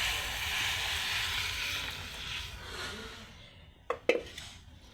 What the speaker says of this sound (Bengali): সম্পূর্ণ ডালটা আমি এর মধ্যে দিয়ে দিচ্ছি।